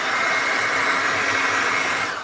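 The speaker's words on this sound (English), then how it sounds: "I'm going to do the hairdryer again." A hair dryer blows steadily onto small clay pieces for a clay portrait sculpture, a loud continuous whoosh that holds constant and eases off slightly at the end, with no talking.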